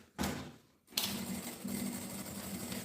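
Sewing machine stitching a gym bag strap, a short burst of rapid mechanical whirring followed by a pause and then a longer continuous run, fairly quiet and close.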